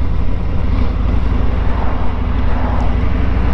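Harley-Davidson Road King 114 Special bagger motorcycle riding at speed, a steady loud low engine drone with wind rush running without a break.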